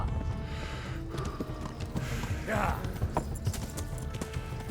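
Horse hooves clip-clop steadily in the medieval video game Kingdom Come: Deliverance, a faint, continuous gait sitting low under game ambience and background noise.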